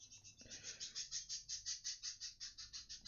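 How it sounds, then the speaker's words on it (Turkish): Small bird chirping outdoors in a quick, steady run of repeated high notes, moderately close and alone with no talk. "bu sefer de kuş videomu baltalıyor"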